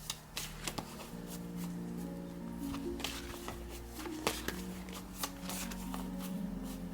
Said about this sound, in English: I'm going to shuffle first